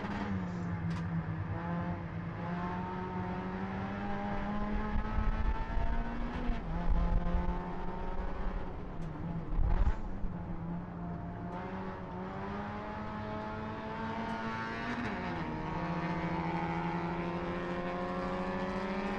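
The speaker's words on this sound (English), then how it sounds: "You can hear these cars just clawing for grip as we're going for throttle as early as we can" Race cars run side by side at full throttle, their engines droning loud and close with steady high revs, brief dips and pickups as drivers fight for grip, and one car's tone shifting near the end.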